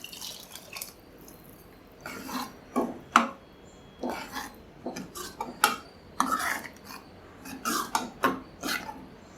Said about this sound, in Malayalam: ഇനി ഞാനിപ്പോൾ തേങ്ങ അരച്ചത് ഒഴിക്കാൻ പോവാണ്